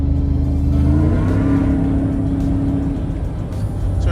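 Engine of a Shelby Supersnake sport truck revs loud and close, a deep steady rumble whose pitch lifts and holds briefly before easing back, with no voices over it.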